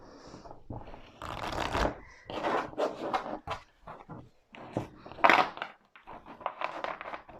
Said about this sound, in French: On va d'abord tirer 3 cartes.